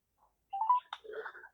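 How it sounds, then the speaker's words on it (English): A phone line rings back on an outgoing call to a Bradford Council legal department. It is a brief, quiet electronic tone pattern heard alone, just before voicemail picks up. "Ringing up Graeme Kenna now"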